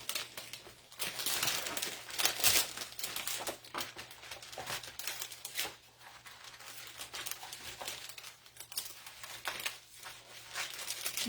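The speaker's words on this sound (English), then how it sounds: "I'm just going to trim off the extra so they can fit in these bags." Excess plastic packaging is trimmed away close up, a continuous crinkling and rustling with quick snipping ticks, fairly quiet and steady with no speech.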